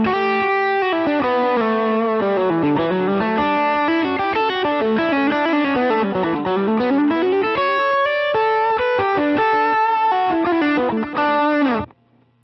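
Electric guitar played through a Vox Joe Satriani Satchurator distortion pedal with the more switch engaged, a loud, thick, saturated melodic run of sustained notes and chords that ends in an abrupt stop, no voices.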